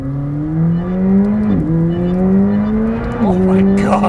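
A 2021 McLaren 765LT supercar accelerates hard from inside the cabin, its engine note climbing steeply through two quick upshifts with brief dips, loud and close throughout.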